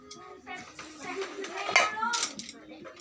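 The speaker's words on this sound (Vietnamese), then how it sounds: "Đây mình lấy cái muỗng mình múc chút tí." A metal spoon scoops sugar from a container, with scraping and clinking against the sides in a short busy burst while a person talks over it.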